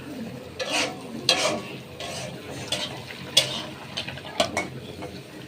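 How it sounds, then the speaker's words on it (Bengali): Noodles tipped into a hot pan with coriander leaves and Maggi masala, then stirred: scraping stirs and a steady sizzle, with several sharp clatters of the utensil against the pan, close and moderately loud. "এই লুডুস ডালি দেওয়া হচ্ছে"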